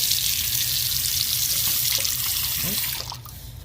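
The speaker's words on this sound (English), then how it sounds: "see how the water flow is coming out of here?" Water running steadily from a newly installed bathroom faucet during a leaky-faucet replacement, a continuous close hiss and splash that cuts off near the end.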